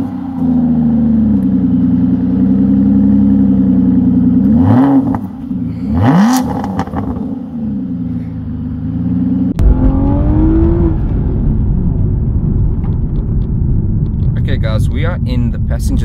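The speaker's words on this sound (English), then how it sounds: "let's start it up, because it's a V12 and we need to hear how this glorious engine sounds" An Aston Martin V12 Vantage engine fires up and revs hard, a deep steady roar with rising and falling surges, then a rougher rumble continues loudly to the end.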